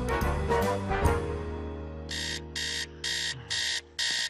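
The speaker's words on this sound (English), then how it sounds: "Didn't you hear the alarm?" An alarm clock rings in a Family Guy cartoon household: five evenly spaced electronic beeps that are loud and sharp, coming after a stretch of music and other sounds.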